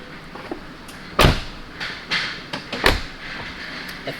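Tesla Model Y car doors thud shut a few times, heavy dull slams with quieter clicks and rustling between them, close by.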